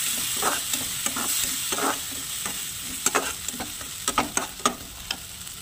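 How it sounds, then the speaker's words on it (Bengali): Shrimp and poppy seed paste sizzling in a pan under a steady hiss, with repeated scraping stirs that grow sharper and more frequent toward the end. "এবারে ভালো করে ভেজে নেব।"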